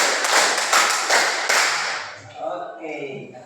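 Students in a classroom clap hands in unison, several loud group claps in a steady rhythm, then the clapping stops and a voice speaks over the room.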